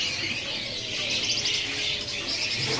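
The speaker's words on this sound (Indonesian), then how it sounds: "Ini ada burung paok ya." A paok (pitta) at a bird-selling kiosk gives a continuous run of high, rapid chirps and twitters, steady and fairly close throughout.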